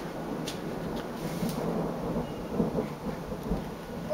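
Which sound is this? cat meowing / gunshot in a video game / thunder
thunder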